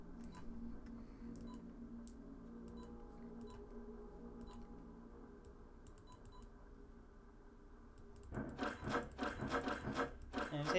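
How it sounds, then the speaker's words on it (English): A hand-crank wind-up sound effect from the Five Nights at Freddy's plushies game plays as a steady, quiet mechanical ratcheting with faint ticks, then grows into a louder, busier clatter near the end. "when we press it, it makes the sound of a hand crank"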